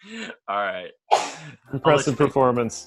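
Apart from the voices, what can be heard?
sneeze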